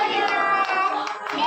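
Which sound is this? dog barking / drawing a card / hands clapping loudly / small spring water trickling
hands clapping loudly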